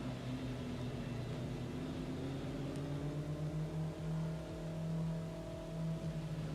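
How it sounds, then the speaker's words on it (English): Off-road race car engine heard from inside the car during a NORRA 500 desert and beach race from Ensenada to San Quintin, a loud steady drone with shifting pitch that runs the whole time without a break. "We do have some in-car audio on Fish, but the engine noise is pretty loud in the background"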